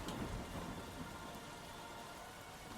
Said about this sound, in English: The rain started to come down harder outside the window